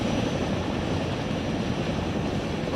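Steady, loud broadband drone of an aircraft cabin in flight in the Arma 3 military game, a constant engine roar with no variation and no voices.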